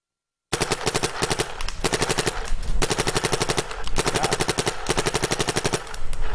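A Planet Eclipse Ego 10 paintball marker fires long rapid streams, each burst a dense machine-gun-like rattle of many shots, loud and close with brief gaps between bursts and no talking.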